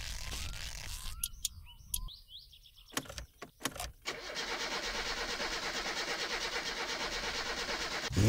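A car engine in the game My Summer Car cranks through a few short starting attempts amid chirping birds, then catches and settles into a steady, pulsing idle that runs on to the end.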